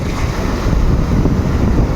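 Sea waves at Diu surge and splash continuously, loud and close, with heavy wind rumbling across the microphone.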